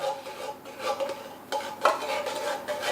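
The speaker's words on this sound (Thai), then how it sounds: "พอใช้ช้อนนี่แหละครับ ตักออกมาให้หมดครับ" A spoon scrapes sweetened milk out of a can while coffee creamer is mixed, making repeated close metallic scraping strokes with small clinks in an irregular rhythm.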